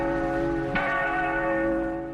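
The Liberty Bell, a one-ton bronze bell, sounds a single strike with a sharp attack and a long, sustained ringing hum that slowly fades, loud and alone.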